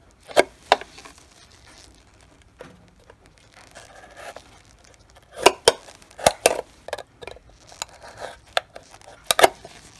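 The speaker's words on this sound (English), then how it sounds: "I take an X-Acto knife and I cut through the cup carefully." An X-Acto knife cuts carefully through a cup while making a glass ornament, giving sparse sharp scrapes and snaps, some in quick pairs, with quiet gaps between them and no talking.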